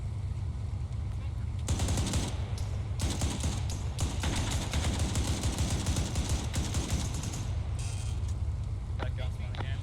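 Bursts of rapid airsoft gunfire crackle through a milsim game near a church, dense overlapping rattles over a loud, low wind-like rumble, with no voices.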